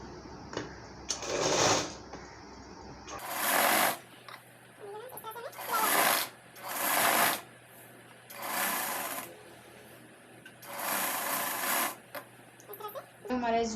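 A sewing machine stitches a blouse sleeve joint in several bursts of rapid whirring, each one or two seconds long, with pauses between them and a voice talking in the gaps.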